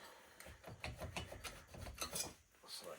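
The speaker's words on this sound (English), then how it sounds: "At this point, the cylinder should slide right up." Metal scraping and rasping as the cylinder is worked up off the piston of a Yamaha Grizzly 600 ATV engine during a teardown, with the piston and cylinder walls badly scored; a series of short, close, uneven grinding strokes.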